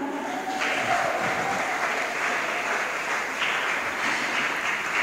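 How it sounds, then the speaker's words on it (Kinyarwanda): A church congregation applauds newly named couples during a Sunday service, a steady sustained wave of clapping from many hands filling the room for the full stretch, with no voices standing out. "tubakomera amashyi cyane. applaudissons pour eux"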